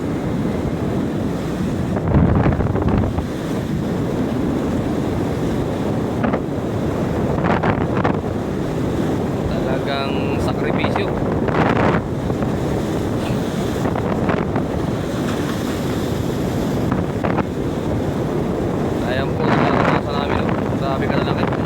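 Pacific Ocean waves wash and roar steadily at sea while strong wind buffets the microphone, with faint voices occasionally audible beneath the noise.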